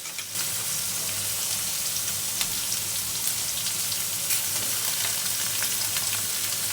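Onions frying in a wok (kadai) give off a steady, close, crackling sizzle that holds evenly from start to finish, with no voices.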